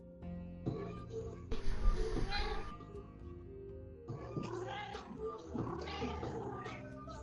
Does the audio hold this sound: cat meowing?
yes